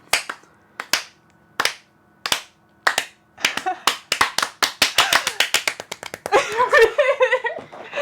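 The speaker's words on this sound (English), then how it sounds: "Slow clap." A single person gives a slow clap that starts with widely spaced, sharp hand claps and speeds up into a quicker run, ending in a dense flurry of clapping, close and loud.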